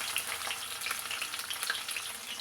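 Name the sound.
cumin, mustard seeds, chillies and onions frying in a pan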